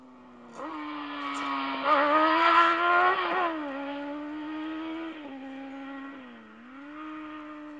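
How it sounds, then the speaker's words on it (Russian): A cartoon sport bike's engine whines and revs loudly in a steady tone, rising and dipping in pitch as it accelerates and eases off, alone with no voices. "спортивный байк."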